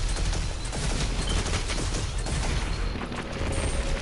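Dense, loud gunfire in Destiny 2, fighting in the Exodus Garden 2A lost sector, with rapid continuous shots and booms overlapping without pause.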